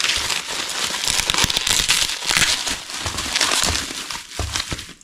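Packaging for a Losi Eight-T nitro RC car crinkles and crackles continuously, close up, as it is torn open and handled, with no talking.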